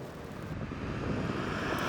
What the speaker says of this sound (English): as you heard just a moment ago, or right now, again, the engine is kind of loud